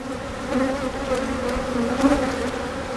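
A swarm of honeybees buzzing steadily in a bee yard as the queen leaves with them, a dense, close, continuous droning hum that swells and fades slightly throughout.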